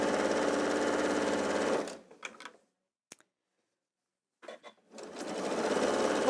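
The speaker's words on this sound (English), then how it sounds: "So I'm stitching quite close to the edge on that one." A sewing machine stitches close to the edge of a seam in a fast continuous whir, stops for a few seconds of near silence broken by small clicks, then starts running again.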